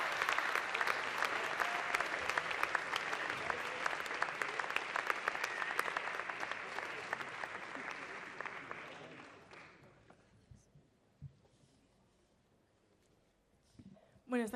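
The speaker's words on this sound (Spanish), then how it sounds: "Fuerte el aplauso, por favor." Applause at a music awards ceremony in Monzón, Aragon: a sustained burst of many hands clapping for about nine seconds, then fading into a quiet hall with scattered claps and a brief sound at the end.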